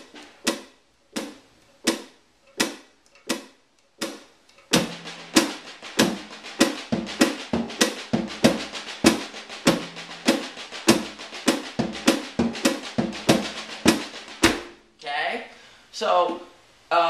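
A drum kit plays a rudiment pattern with accents on a tom combination, starting with sparse slow strokes, then a dense, even run of sharp hits close up before tapering off.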